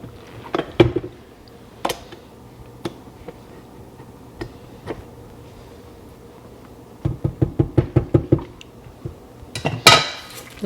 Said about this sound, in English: I'm just gonna give that a quick mix just to get that incorporated